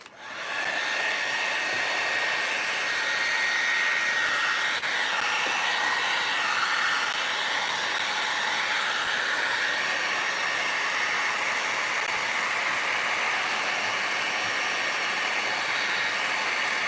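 Hair dryer blowing steadily to dry crackle medium and decoupage medium on a small craft project, a continuous close whirring rush that holds for the whole stretch with no talking.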